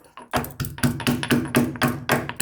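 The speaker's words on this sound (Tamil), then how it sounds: "பூண்டையும் ஒரு தட்டு" Rhythmic pounding of garlic in a mortar, about eight firm, evenly spaced thuds in quick succession, close and fairly loud with no talking.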